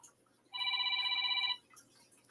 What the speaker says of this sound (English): See, now my phone's ringing.